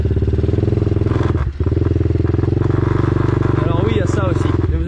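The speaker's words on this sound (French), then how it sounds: "la bavette qui frotte contre la chaîne" A motorcycle engine chugs steadily at close range, with a faint rubbing, scraping clatter of the mudguard rubbing against the chain riding on top and a brief dip midway.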